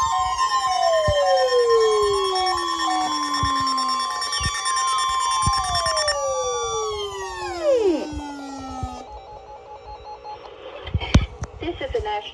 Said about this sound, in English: We have just activated the public warning alarm tone as a test of our weather radio station's warning alarm system.